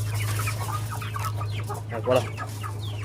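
Guinea fowl being trained to return to their coop give a series of harsh, clucking calls near the listener over a steady low hum, and a voice speaks briefly.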